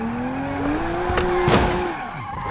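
Car in the BeamNG.drive driving game spinning its wheels, a loud engine tone climbing and holding under squealing tires, with a couple of sharp bursts before the revs drop away.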